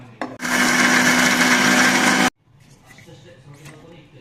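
A mixer grinder whirs loud and steady for about two seconds while blending roasted peanuts and cumin, then cuts off abruptly, leaving faint rustling and low room noise.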